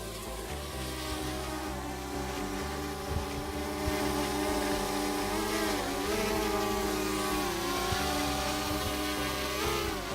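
A DJI Mavic Air drone hovers and flies just after takeoff, its steady high-pitched propeller whine loud and close, rising and dipping slightly in pitch throughout.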